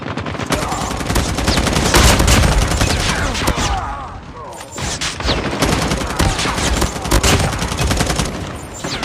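Loud, sustained gunfire in the video game Call of Duty, with rapid overlapping shots and automatic bursts, easing briefly midway before resuming at full intensity.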